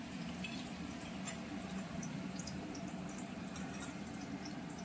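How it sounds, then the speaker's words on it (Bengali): A pot of katla fish curry gravy with potatoes and fried lentil dumplings simmers on the stove, giving off a faint, steady bubbling hiss with small pops and no voices. "তারপরে এই ঝোলটা আরো একটু ফুটবে"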